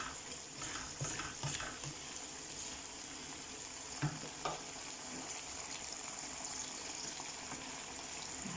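Shrimp and garlic sauté in a pan with a steady hiss of frying, broken by occasional scrapes and clinks of a utensil stirring, close and continuous.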